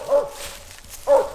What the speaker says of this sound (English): We just released the dogs less than 3 minutes ago